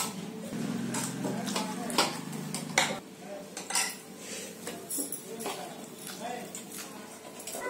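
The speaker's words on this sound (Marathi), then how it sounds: "आता हे कुकर मधलं आहे ना हे मी जाळीमध्ये काढते." Cooked drumstick paste being scooped from a pressure cooker into a metal strainer, with repeated clinks and scrapes of a spoon against steel vessels and a low hum early on, under someone talking.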